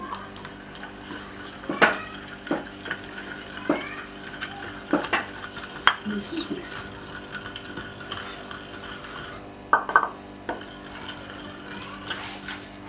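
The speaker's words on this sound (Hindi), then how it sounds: "अब फेंटा हुआ दही थोड़ा थोड़ा करके इसमें मिलाएं।" Whisked yogurt being stirred bit by bit into radish chutney: sparse, close metallic clinks and scrapes of a spoon against a bowl, separated by quiet pauses.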